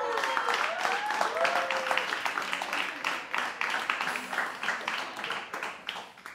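In a bar-style TV interview set, a small group claps for a vallenato singer, a lively burst of close handclaps that gradually thins out, with voices and laughter over it.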